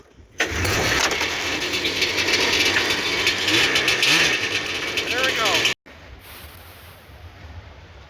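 A snowmobile engine, pull-started with the choke on, catches and roars loudly near the listener for several seconds, then cuts off abruptly and leaves a quieter background. A voice is present.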